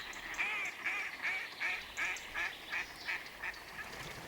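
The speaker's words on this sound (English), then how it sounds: "Paddling away on the surface of the water is a mallard duck" A mallard duck on a lake in the Vosges quacks repeatedly in a steady rhythm, about ten nasal calls over a soft outdoor background, moderately distant.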